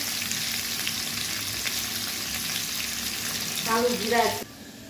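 Potato pieces fry in hot oil with a steady, dense sizzle and crackle. Near the end a brief stir or scrape rises over it, then the sound cuts off abruptly. No one speaks.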